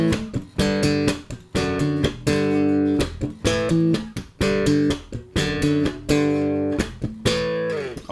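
Bass guitar strumming chords in a riff laced with percussive ghost notes, a choppy, rhythmic pattern of bright strummed hits and muted scratches under constant hand motion, loud and alone.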